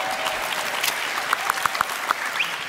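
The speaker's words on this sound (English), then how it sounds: "Why don't you clap for me?" Applause at a European film awards ceremony: a steady wash of many hands clapping from a room audience, fairly soft and even, with a few sharper individual claps standing out near the end.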